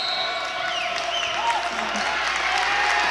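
A basketball crowd on its feet in an arena, applauding in a steady, dense patter, with faint whistles and cheers mixed in.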